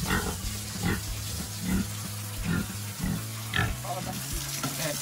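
Pigs in a pen on a farm, with grunts and snorts coming in bursts over running water and wet scraping noises, fairly close.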